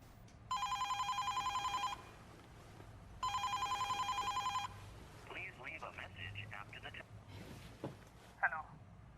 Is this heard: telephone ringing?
yes